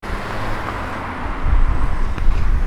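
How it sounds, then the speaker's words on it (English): Heavy road traffic with wind buffeting, a loud, steady roar of passing vehicles and low rumbling gusts that swell in the second half. "we have some dialogue that was recorded in heavy traffic with a lot of wind noise going on as well"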